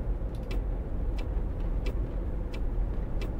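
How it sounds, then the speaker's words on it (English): Engine of an MAN Lions Intercity coach in Fernbus Coach Simulator, a steady low droning rumble at moderate level with faint periodic ticking clicks above it. "Engine noise for me isn't that loud."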